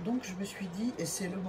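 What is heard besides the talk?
No everyday noise stands out behind the speech.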